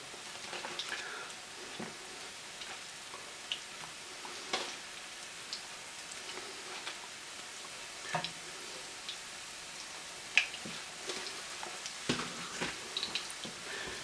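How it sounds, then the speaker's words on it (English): Portobello mushroom tots shallow frying in a pan of oil, a steady faint crackling sizzle with scattered sharper pops and spits throughout. "You can see how they're frying the minute it hits the pan."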